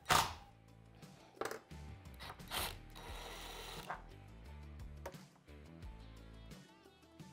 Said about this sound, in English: I'm going to use a screwdriver to pull that barrel nut off